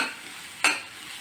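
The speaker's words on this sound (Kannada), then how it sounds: "ಚೆನ್ನಾಗಿ ಫ್ರೈ ಮಾಡ್ಕೊಬೇಕು. ನೀರಿನ ಅಂಶ ಎಲ್ಲ ಹೋಗೋವರೆಗೂ" Ivy gourd frying in a pan for a Kannada thondekai palya, a soft continuous sizzle interrupted by one sharp scrape of a spatula against the pan partway through.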